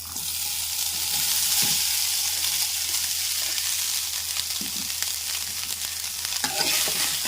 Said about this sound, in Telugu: ఇప్పుడు రైస్ వేసేస్తున్నానండి